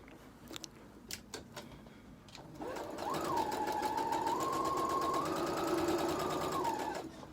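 A sewing machine stitches a lining around faux fur for a wristlet, a steady close whirring run that starts after a few light clicks and holds for several seconds before stopping.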